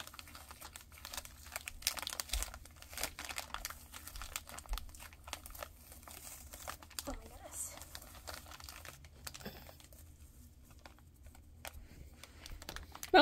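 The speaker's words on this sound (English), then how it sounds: "The plastic is stuck in the bag, which is fine. Let me just get the plastic off." Crinkly plastic wrapping is tugged and peeled off a blind bag toy in a run of close, scattered rustles and crackles, with a quieter stretch partway through.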